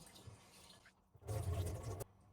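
Rice grains are rinsed by hand in water, giving a soft swish followed by a louder, close burst of sloshing and pouring that stops abruptly.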